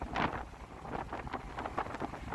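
Steady rushing wind buffeting past an open VW Eos convertible at speed, a broad continuous roar with gusty fluctuations and no talking.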